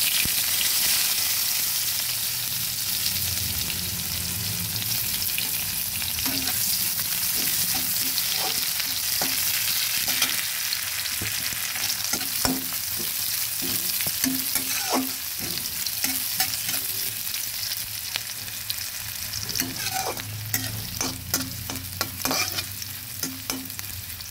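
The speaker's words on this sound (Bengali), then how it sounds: "পেঁয়াজগুলো প্রায় ভাজা হয়ে এসেছে" Chopped onions sizzle steadily in hot oil with black cumin seeds for the whole stretch, with scattered scraping stirs and spatula clicks becoming busier toward the end.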